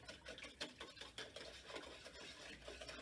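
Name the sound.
whisking milk mixture for French toast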